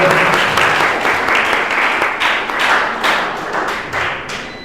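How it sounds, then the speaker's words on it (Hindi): Loud applause from an audience at a school event on cleanliness and business schemes, a dense burst of many hands clapping that slowly thins and fades toward the end. "एक बार जोरदार तालियों के साथ"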